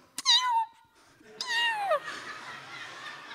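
Cat meow sound effect within a narrated story: two distinct, close meows, the first short and rising, the second longer and drawn out, heard alone without talk.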